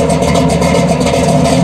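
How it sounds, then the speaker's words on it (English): A car engine fitted with a Flowmaster exhaust, which uses one long muffler running parallel with the axle, rumbles steadily at idle, loud and close with a deep low burble throughout. "I love that sound. Now that's a Flowmaster."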